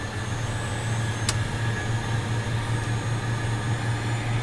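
Engine start on a 2010 Cessna Citation Mustang business jet, heard as a steady low turbine drone with a constant high whine, with one brief sharp click partway through and no talk.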